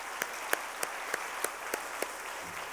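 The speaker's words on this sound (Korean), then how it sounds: "우리 다시 한번 감사의 박수 하겠습니다." A church congregation applauds in thanks during a worship service, a soft steady wash of clapping with a few sharp, evenly spaced louder claps close by.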